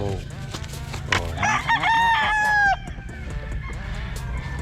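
A gamecock bred for fighting, one of several brightly colored roosters, crows once in a loud drawn-out call over a dense background of other fowl and noise.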